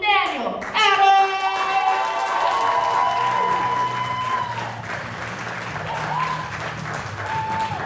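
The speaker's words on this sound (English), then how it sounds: "Guys, give it up for Daniel Adams!" A crowd at a stand-up comedy class show applauding after a brief musical sting, clapping sustained and fairly loud, with a voice or two faintly over it.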